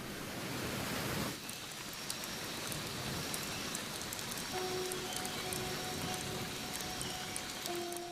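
Steady rain patters across foliage, starting heavier and then easing into a softer continuous hiss with faint drips, while thin tonal chirps surface in the second half.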